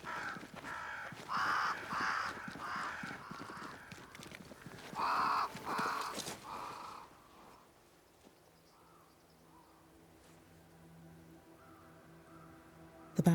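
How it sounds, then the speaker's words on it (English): Crows caw in the video game Banishers: Ghosts of New Eden, a run of harsh, repeated calls in short bursts over the first half, then quieter ambient game sound. "Crows. They flock to that great tree up there."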